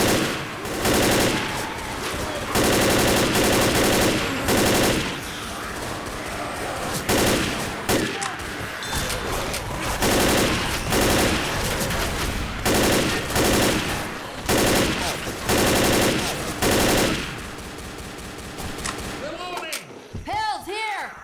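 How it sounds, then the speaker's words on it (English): Loud, sustained automatic fire from an assault rifle in Left 4 Dead, long rattling bursts broken by short pauses, with someone talking over the shooting. "I guess there's no reason not to use the assault rifle."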